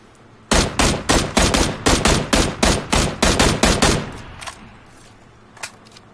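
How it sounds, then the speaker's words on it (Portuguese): Rapid gunfire in a shooter video game: a fast string of about fifteen loud, evenly spaced shots, followed by a quieter pause and a couple of distant isolated shots. "Paro pra atirar em um maluco, tomo tiro de lado, velho"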